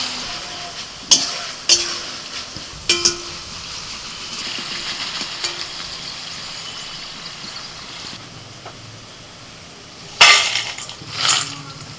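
Oil sizzles steadily in a pan as potatoes deep-fry, with several sharp clanks and scrapes of a utensil stirring them.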